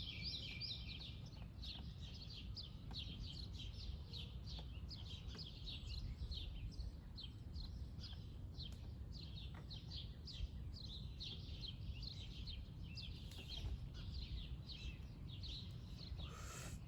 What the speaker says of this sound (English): Cause the birds are chirping early in the morning.